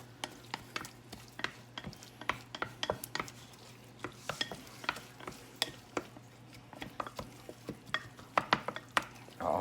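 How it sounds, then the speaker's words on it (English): Peppers frying in a pan for a cheese dip, with a soft continuous sizzle under frequent light clicks and scrapes of stirring, close and fairly quiet, no voices. "going to go ahead and add the peppers"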